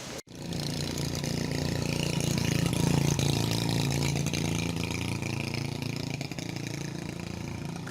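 A motorbike engine rides along a road on a hot day, a steady mid-pitched hum that starts after a short click and holds a continuous drone for several seconds.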